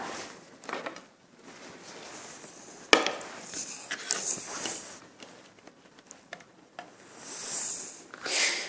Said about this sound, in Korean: 두부도 잘라보겠습니다.